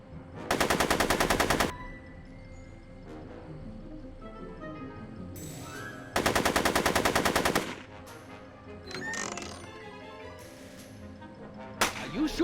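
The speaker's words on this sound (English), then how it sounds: "Are you shooting at me?" Video-game gunfire in Back to the Future II arrives as two loud, sustained bursts of rapid machine-gun fire, each lasting over a second, separated by quieter game effects and a few faint isolated shots.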